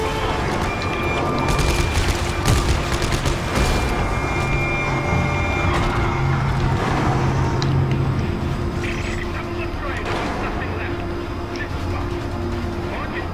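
Missiles and gunfire from the Metal Gear video game make a dense, continuous barrage of blasts, booms and rattling shots alongside game music and noise.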